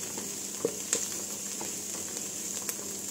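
Onion and garlic frying in a pan, a steady close sizzle with soft hiss and a few sharper pops and spatters scattered through, no talking.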